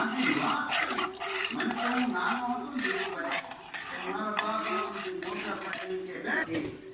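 Gram flour batter for Gujarati kadhi being whisked in a bowl, a busy run of quick metallic clinks and scraping strokes throughout, close and steady, with a voice talking over it.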